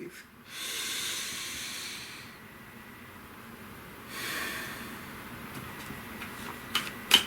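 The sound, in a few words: deep breathing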